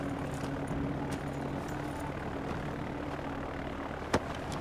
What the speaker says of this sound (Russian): На том взлетающем самолете.